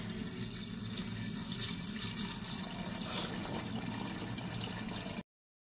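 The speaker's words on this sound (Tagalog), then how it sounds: "At lagyan natin ng malinis na tubig." Clean water pours steadily into a cooking pot holding star anise and other ingredients for a Filipino beef pares broth, a continuous near, loud rushing splash that runs alone for about five seconds before stopping abruptly.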